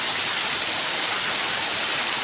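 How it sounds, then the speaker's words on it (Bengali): Steady rain falls under a cloudy sky, water running down a mango tree; an even, continuous broadband hiss with no voices. "বৃষ্টি হচ্ছে"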